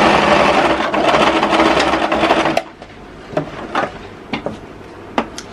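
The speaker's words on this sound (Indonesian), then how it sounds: "sekarang kita menjahit bahu yang sebelah ini" A sewing machine stitches a shoulder seam on plain fabric in a steady, loud whirring run that stops partway, followed by a few short clicks and knocks of the machine and cloth being handled.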